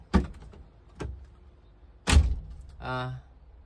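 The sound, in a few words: Isuzu Panther car door closing softly after repair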